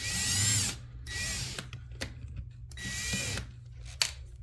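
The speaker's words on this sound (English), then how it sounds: "Chuck this up in a hand drill." A hand drill spinning a brass case trimmer whirs in short bursts, spinning up and stopping several times, with clicks and small mechanical knocks between runs.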